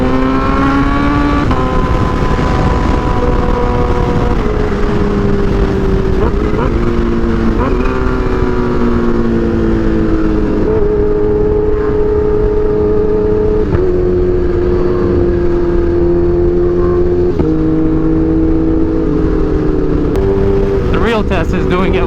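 Kawasaki Ninja H2 motorcycle engine running and revving under way, a loud steady droning roar with pitch rising and shifting through gears, heard from the rider's position with wind noise and a voice talking over it.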